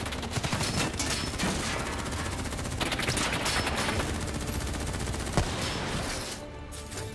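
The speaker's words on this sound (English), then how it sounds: "Who's shooting?" A continuous wash of automatic gunfire rolls through a Call of Duty Black Ops 3 firefight, dense and sustained, with overlapping shots and a few sharper cracks before it eases slightly at the end.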